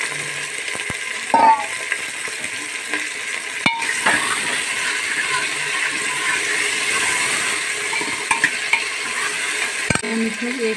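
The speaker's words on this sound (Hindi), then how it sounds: "3 मिनट के लिए अच्छे से इसमें फ्राई कर लेना है।" Taro and onions fry in a pan with a steady sizzle, broken by clinks and scrapes of a spoon stirring against the metal, including a sharp knock near the start and another near the end.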